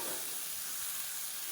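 Tomatoes sautéing in a pan give a steady, soft sizzle with a faint hiss and no pauses.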